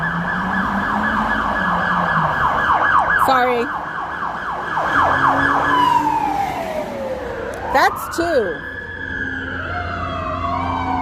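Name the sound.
fire engine and police car sirens passing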